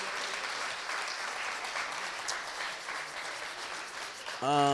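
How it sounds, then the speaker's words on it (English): Audience applause at a live show, a fairly faint, even wash of clapping heard at a distance that holds steady, then a brief voice cuts in at the very end. "Give yourselves a round of applause, man, for sticking it out, sticking with the struggle."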